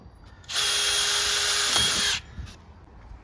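A power drill runs in one steady, high, whining burst of about two seconds while boring a hole into composite deck fascia board, recorded close up and followed by faint clatter.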